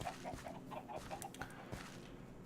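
Chickens in the Minecraft video game cluck in a quick series of short, clipped calls, faint and slightly distant, with no talking over them.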